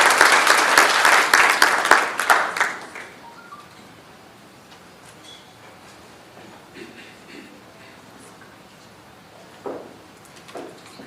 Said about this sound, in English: let's give him a round of applause as he ascends the stage